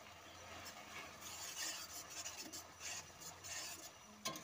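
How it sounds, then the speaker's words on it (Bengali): A spatula stirs tomato, ginger and garlic frying in oil, making a soft continuous scraping and sizzle with faint intermittent scrapes, quiet and close. "আরও কিছুক্ষণ নাড়াচাড়া করে নিচ্ছি।"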